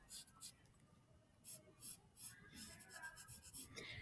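Charcoal rubs back and forth across paper while filling in a value scale box, giving soft, scratchy strokes in an uneven rhythm, close and fairly quiet.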